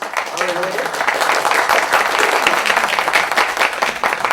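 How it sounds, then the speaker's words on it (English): Applause from a theatre audience during a stage play's wedding scene, dense steady clapping with some voices and cheering mixed in throughout. "I think a little applause."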